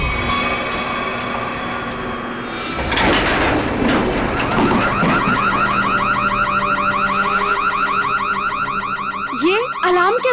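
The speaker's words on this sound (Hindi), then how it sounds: "ये अलार्म कैसा? लगता है लिफ्ट अटक गई है" A stuck lift's alarm rings loudly and continuously in a building as a steady electronic tone, rising in intensity after a few seconds, with a sharper chirp near the end.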